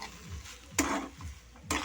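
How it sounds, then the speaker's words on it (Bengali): Ghee being stirred into an ash gourd ghonto in a pan, with a steady fry sizzle and scraping spatula strokes that swell into louder bursts twice, close by with no talking. "এবার দেবো একটু ঘি, দিয়ে নাড়াচাড়া করে 2 মিনিট মতো"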